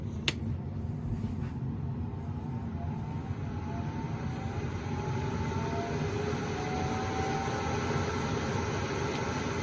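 An exhaust ventilation fan for an airbrush and dryer setup runs with a continuous, steady whooshing hum and faint rising tonal whine, close and unchanging throughout.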